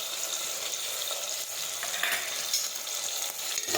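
Diced potatoes, shelled peas and chopped tomatoes sauté with asafoetida in a pan for a Gujarati vegetable curry, giving a steady close sizzle and frying crackle throughout with a few light stirring scrapes, no talk.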